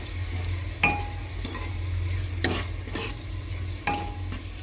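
Onions frying with turmeric in a pan for village-style chicken hiss softly under a low hum while a spoon stirs them, giving a few sharp scrapes and clicks.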